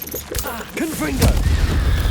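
A Confringo fire spell in Hogwarts Legacy goes off as a sharp, loud blast that spills into a low rumbling crackle. A voice calls out just before it.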